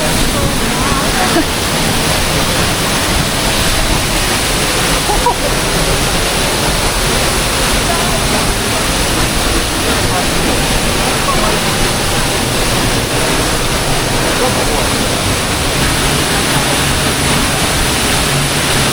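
Water pours down at one of Slovenia's Kozjak and Peričnik waterfalls, making a steady, dense roar that stays close and loud without a break.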